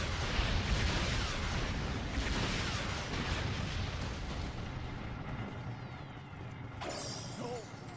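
Homing missile explosions in the video game Banjo-Kazooie: Nuts & Bolts, a dense rumbling roar of blasts that slowly fades, followed by a sharp high synthetic burst near the end, with no talking.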